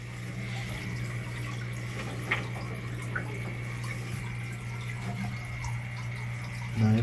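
Water flows steadily into a blue shrimp tank, a continuous close trickle and splash over a low, constant pump-like hum, with no voices.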